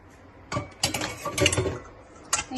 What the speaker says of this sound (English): we're going to whisk the double cream